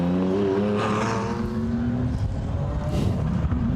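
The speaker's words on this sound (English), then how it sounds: "the two cars actually going through the screen at the moment, the 96 cars" Porsche 911 GT1 race cars from 1996 sweep past during a circuit demonstration run at Goodwood, a loud sustained engine roar whose pitch falls as they go by, with crowd and track ambience behind.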